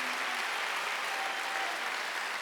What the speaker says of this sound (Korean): 빨리 박수요.